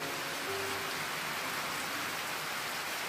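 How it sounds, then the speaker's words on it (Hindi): Steady rain falling outdoors during the rainy season, a dense even hiss of drops at constant loudness with no talk. "देखिए, बारिश का मौसम है"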